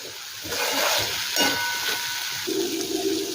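Moong dal fries in a pan over a low-medium flame, making a loud, even hiss that holds steady for several seconds with slight swells.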